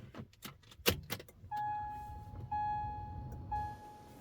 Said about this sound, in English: I'm going to turn the ignition switch to on.